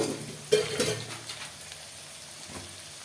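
A sharp hiss and sizzle rises as water hits masala paste in a hot pan for chicken gravy, with a brief clatter of stirring, then settles into a quiet simmer.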